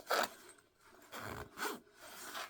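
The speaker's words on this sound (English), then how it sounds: "It zips a bit stiff because it's new." Stiff zipper on a new jacket being zipped up, several short scraping pulls with pauses between, close and fairly quiet.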